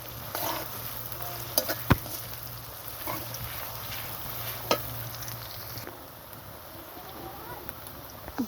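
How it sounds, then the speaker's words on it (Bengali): Chopped onions fry quietly in oil left over from frying snakehead fish, stirred now and then. A low, steady sizzle runs under faint sounds in the room, broken by a few sharp utensil clicks. "এই পর্যায়ে মাছ ভাজা তেলের মধ্যে দিয়ে দিব পেঁয়াজ কুচি। পেঁয়াজটাকে ভালো করে নেড়েছে আমি লাল লাল করে ভেজে নেব।"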